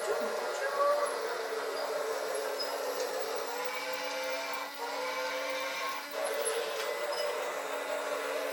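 A small Christmas train runs with a steady, moderate whir and faint clicking, continuing throughout with slight dips, while people talk nearby.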